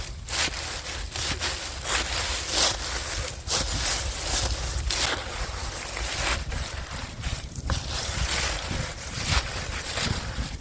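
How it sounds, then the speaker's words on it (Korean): Compost of fallen leaves mixed with four liters of water, stirred with a tree branch outdoors in a winter field: repeated sloshing, splashing swirls with breezy wind noise, close and fairly loud. "물 4리터를 붓고, 나뭇가지 같은 걸로 한 번 더 저어 주신 다음에요."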